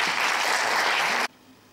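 An audience at the closing gala of the La Fila festival in 2017 claps for a guest. A loud, full burst of applause lasts just over a second, then cuts off sharply into quiet room tone.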